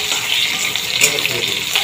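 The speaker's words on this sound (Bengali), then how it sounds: "এবার পেঁয়াজটা দিয়ে দেব।" Onion hits hot oil with spices, letting out a loud, steady, close crackling sizzle that holds without pause, with no voices.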